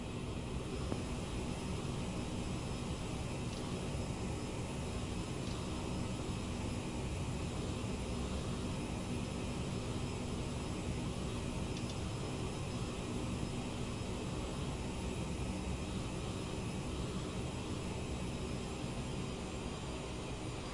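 Steady, broadband roar inside the cabin of a Boss Air CRJ 900 jet in flight, a constant whooshing hum with no breaks or changes in level.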